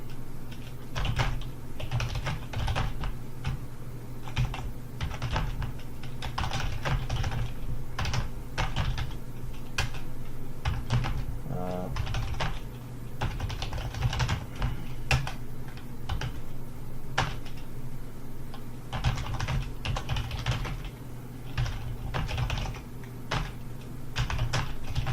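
Fingers type steadily on a computer keyboard while a bug report is filled in, giving close, continuous clicky keystrokes in uneven bursts with brief pauses and no talking.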